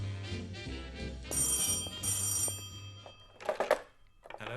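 An old-fashioned telephone bell rings in two bursts over dramatic background music, with thuds and a clattering sound afterward as the receiver is picked up.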